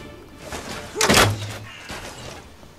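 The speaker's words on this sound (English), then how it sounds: "Actually, this is the Bastion Ballista. Ready to fire!" A Bastion Ballista in the video game Medieval Kingdoms 1212 AD fires a single sharp, heavy thunk with a brief whoosh, then fades under quiet battle ambience.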